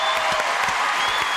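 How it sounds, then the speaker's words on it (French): Loud audience applause on a French television show, dense clapping from a crowd filling the whole moment without a break. "Ah bah dis donc, applaudissements pour Jacques, même."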